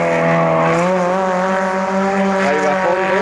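A race car on a motor-racing circuit howls at full throttle, its engine note holding loud and steady with rising harmonics through the pass, no voices over it.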